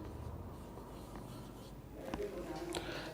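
Marker or chalk scratches across a classroom board as words are written, faint soft strokes in a quiet room, with a few sharper taps near the end.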